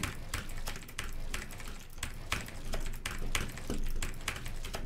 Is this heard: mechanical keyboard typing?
yes